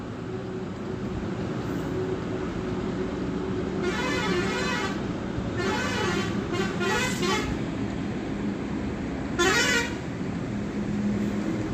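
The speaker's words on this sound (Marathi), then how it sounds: "गाड्यांचा आवाज पण खूप येतो घरामध्ये" Steady street traffic, heard from inside a house, rumbles throughout while car horns honk in several separate bursts, some short and some repeated, fairly close by.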